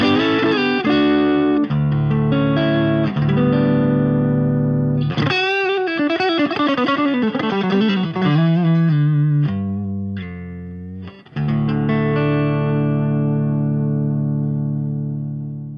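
A dry electric guitar, a Tally, played through two Rev amps with no chorus pedal engaged, sounding loud and driven with sustained chords and single notes ringing out over about sixteen seconds, alone without talk.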